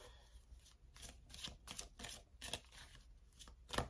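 A deck of oracle cards is shuffled close by in a quiet room, with rapid rhythmic riffling bursts repeating about a dozen times, growing slightly louder toward the end.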